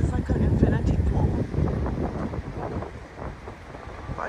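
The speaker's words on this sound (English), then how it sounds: "it's super windy" Strong wind buffets the microphone outdoors beside an infinity pool at a Hong Kong hotel in a steady low roar, with a person talking faintly underneath.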